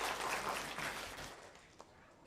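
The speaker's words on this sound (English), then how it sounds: "a round of applause for our Honorable Minister" An audience at an ASSOCHAM event applauds for the Minister, a dense patter of clapping that fades out after about a second and a half, faint and a little distant.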